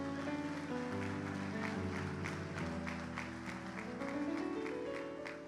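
A church congregation applauding together, a dense steady patter of clapping hands with a musical backing underneath, fairly quiet and sustained throughout.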